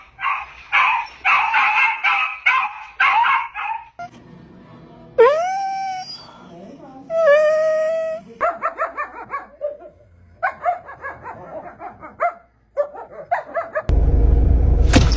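Dogs bark at a short-legged corgi: a run of quick, close barks, then long rising whines and howls, then more bursts of yapping barks, ending with a loud rumbling noise.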